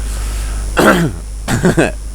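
Two short smoker's cough bursts, the first single and the second a quick double, close to the mic over a steady low hum.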